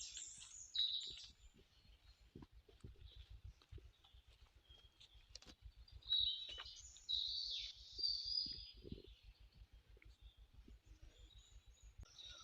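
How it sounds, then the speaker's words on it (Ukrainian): Birdsong fills a forest during a mushroom-hunting walk, with scattered chirps and calls at moderate distance, alongside a steady low rhythmic thumping of footsteps through the woods. "що пташок спів, то взагалі неймовірний"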